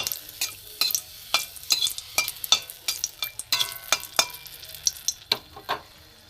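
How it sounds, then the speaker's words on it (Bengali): Cumin seeds, a dried red chili and a bay leaf crackle in hot oil over low gas, with a steady sizzle under sharp, irregular pops and stirring taps, close and fairly loud, no talking. "তেল গরম হয়ে গেছে, এতে আমি জিরে ফোড়ন দিয়েছি, একটা শুকনো লঙ্কা ফোড়ন দেবো, একটা তেজপাতা দেবো"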